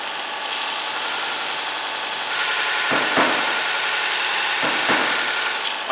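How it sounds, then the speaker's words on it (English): A Robert Sorby ProEdge belt sharpener grinds a skew chisel, giving a loud continuous abrasive whine with a steady motor hum and two brief dips as the blade is lifted and pressed again. "I know I'm sharpening because I can see sparks coming off"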